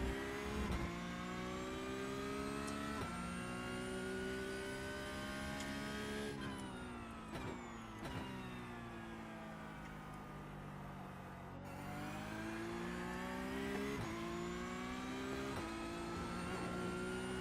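Mazda Miata race car engine in the iRacing sim, a steady mid-pitched drone revving up and down through gear changes, loud and continuous throughout with no talking.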